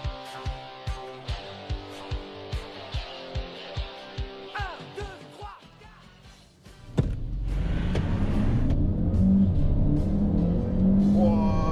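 Peugeot 508 PSE launching hard from a standstill: a rhythmic idling engine pulse fades, then a sudden loud surge of engine roar builds and holds, close and steady, with no talk over it.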